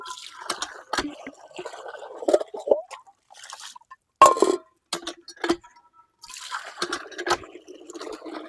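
Water splashes and clinks from a hand-operated village pump, arriving in uneven bursts with short gaps between strokes, close and fairly loud, with no talk over it.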